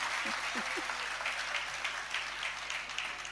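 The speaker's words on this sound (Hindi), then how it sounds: "अब ये तालियां काय के लिए बजा रहे?" Faint, steady clapping from a sermon audience gathered for a Jain acharya's pravachan, a soft continuous patter at a distance with a few low murmurs near the start.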